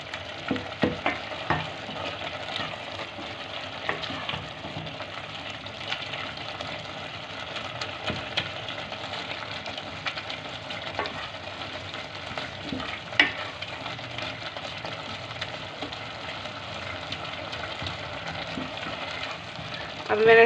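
A spoon stirs minced beef keema with salt in a pan, giving soft continuous scraping and light sizzle with small clicks throughout, fairly quiet and steady.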